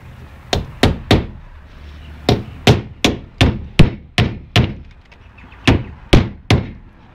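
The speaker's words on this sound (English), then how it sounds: "I might actually stick a nail in it as well" A nail hammered into a plasterboard patch, roughly fourteen close, sharp blows in quick bursts of two and three with brief pauses between.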